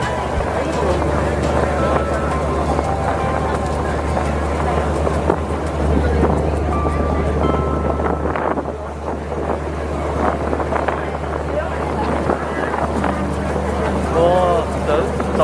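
Boat ride on the open sea off northeast Hong Kong, with a steady engine drone and rushing wind and water noise throughout, loud and close, while people talk over it.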